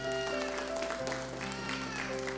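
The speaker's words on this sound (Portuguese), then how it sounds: "Uma salva de palmas pro irmão Davi" Applause breaks out for a boy named Davi at a church children's quiz class, a steady mass of hand claps over sustained musical tones and a low background hum.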